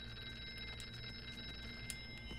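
A telephone rings somewhere in the horror video game Here They Lie, a faint, steady electronic tone with soft repeated pulses under a low ambient drone, with no talking.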